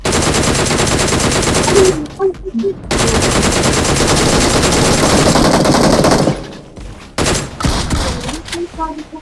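Sustained bursts of machine gun fire in the BGMI PUBG Mobile battle royale game, loud and dense, broken by brief pauses and a few scattered single shots near the end.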